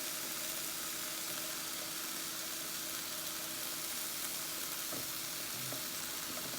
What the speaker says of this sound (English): And now I am sauteing my baby portobello's mushrooms.